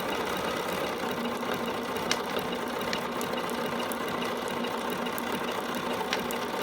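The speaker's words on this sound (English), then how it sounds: "now I'm going to come back and I'm going to sew a 1/4 inch from that row of top stitching that I just applied" A dual feed sewing machine stitches a row of top stitching through denim for blue jeans, a steady close mechanical whir running without a break.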